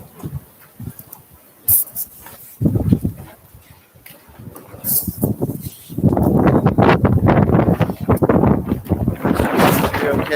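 Strong winter solstice storm wind whips outdoors, roaring and buffeting the microphone in uneven gusts that swell from fitful rushes into a loud, sustained blast over the final seconds.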